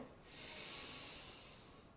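A long, deep breath drawn in during a yoga breathing exercise, a steady airy hiss that swells and holds for about two seconds, close and fairly soft, with no talking.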